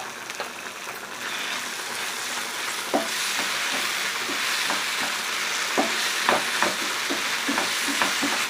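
A spoon stirs chopped tomatoes with chilli sauce and tomato sauce in a frying pan, with a steady sizzle and scattered scraping clicks throughout, close and moderately loud.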